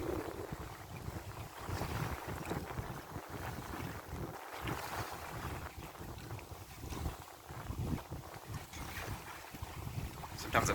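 Wind rushes steadily across a microphone on a sailboat on a day sail around Hilton Head Island, South Carolina, a continuous buffeting roar with faint water wash beneath.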